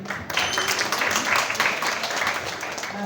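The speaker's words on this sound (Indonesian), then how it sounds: "Sekali lagi aplaus untuk Bapak Dekan." An audience at an Indonesian chemistry teachers' forum opening in Jakarta applauds the dean, a dense, steady round of clapping that carries on without a break.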